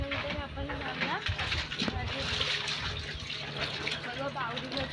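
Water is drawn from a well during the rainy season, with splashing and gushing water throughout and a metallic clank. Someone talks over the running water.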